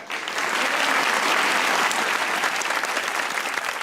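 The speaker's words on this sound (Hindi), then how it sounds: "तालियां बजाओ यार" A studio audience at a Pakistani comedy talk show claps loudly and continuously, a dense, even wash of applause with no voices over it.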